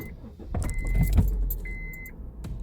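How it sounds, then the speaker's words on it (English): A Honda Civic Mk8 rolling backwards and forwards on a home driveway with its steering wheel centre bolt removed, giving a low close engine rumble with a light metallic jingle and a brief tonal beep. "I thought I'd just go backwards and forwards on the drive here and see how nice and straight it sits"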